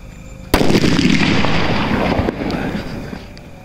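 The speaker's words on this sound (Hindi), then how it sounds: "तो भाई अब लगाते हैं last and final big size के क्लासिक बम के अंदर आग" A big classic bomb firecracker set off on Diwali night explodes in one sudden sharp, loud blast, followed by a long crackling, rumbling tail that slowly fades over a few seconds.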